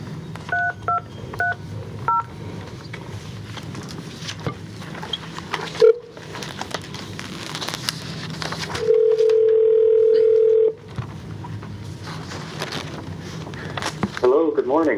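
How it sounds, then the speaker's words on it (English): A conference-room telephone is dialed for a conference call at a retirement board meeting: a quick series of touch-tone beeps, then a steady dial tone for a couple of seconds, with room noise and talking around it. "I'm going to dial him in right now."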